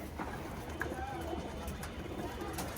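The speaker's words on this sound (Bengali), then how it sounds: "এটা পাল্লার কবুতর পড়ে গেছে" A fallen racing pigeon coos softly a few times, faint and close, mostly buried under people talking nearby.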